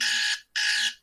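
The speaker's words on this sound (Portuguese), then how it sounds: "É o meu despertador super discreto para eu acordar, sabe?" An alarm clock rings in two loud electronic beeping bursts separated by a brief gap, harsh and close, with no voices.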